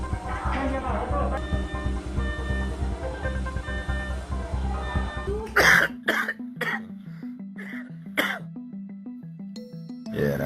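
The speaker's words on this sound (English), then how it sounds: "Yeah, that's the cough." A sick person coughing in deep harsh bursts, several separate coughs in quick succession following a stretch of louder background sound, close and clear.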